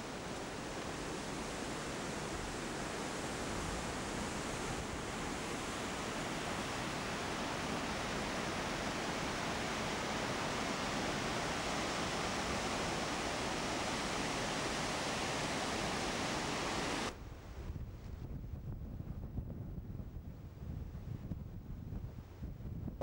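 Water rushing through the gorge at El Chorro makes a broad, constant hiss that holds steady and loud for most of the stretch before dropping off sharply to a quieter, gustier background.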